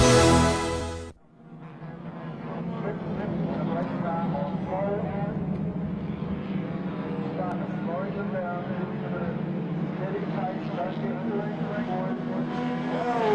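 A large field of Holden HQ race cars starts the three-hour enduro at Calder Raceway, a dense, steady engine roar under a commentator's voice, heard at a distance after a brief announcement fades out.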